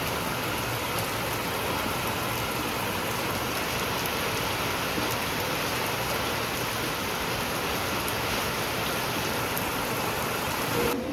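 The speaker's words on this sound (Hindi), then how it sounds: "देखो कितनी ज़्यादा बारिश हो रही है" Heavy rain pours steadily, a dense even roar of drops hitting surfaces close by, continuous and unbroken with no voices.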